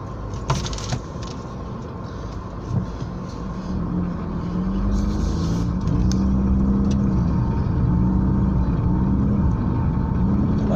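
An aging car engine runs steadily with a low vibrating hum that grows louder and rougher partway through, with a few light rattles early on and no talking over it.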